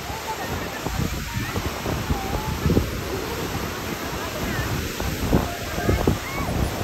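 Rushing water pours steadily at a dam in Japan, a loud continuous wash with wind buffeting the microphone, while a person talks over it.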